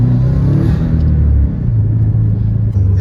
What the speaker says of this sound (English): it's not too loud, but you know, it's like an older guy exhaust